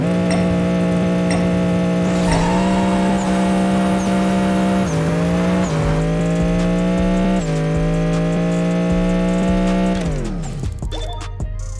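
A race car engine in the racing game Apex Racer drives a steady, loud, close drone through rising gear pulls, dropping pitch at each upshift, then tailing off near the end, with no talk.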